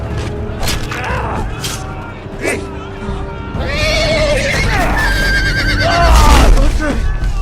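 A horse whinnies loudly amid game-like clatter and rumbling effects in the Game of Thrones video game, with a voice talking over parts of it.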